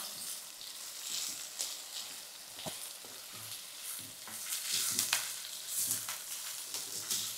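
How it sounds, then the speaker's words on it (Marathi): Chopped onion fries and softens in a pan on a gas stove, giving a steady sizzle with occasional stirring scrapes and clicks, close and fairly quiet with no talking. "आणि हा कांदा आपल्याला असा नरम करून घ्यायचा आहे"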